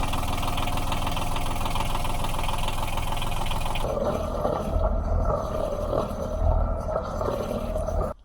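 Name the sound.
sailboat engine started and idling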